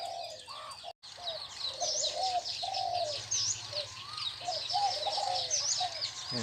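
A mountain-strain songbird in a training cage gives repeated bright whistled chirps and warbling calls over a steady outdoor background, with a brief dropout near the start.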